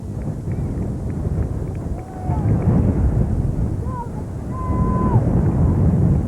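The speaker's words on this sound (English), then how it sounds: "Wind really gusting hard at the moment." Hard gusting wind buffets the microphone at an outdoor softball game, a loud continuous rumble that swells in strong bursts, with faint distant whistles and calls behind it.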